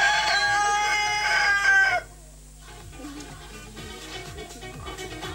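A rooster kept by poultry fanciers lets out a loud, drawn-out crow, followed by softer clucking and the scattered noise of fowl nearby.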